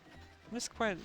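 Horses neighing in a strategy video game, two short whinnies in quick succession, the second louder and clearer, heard close and brief.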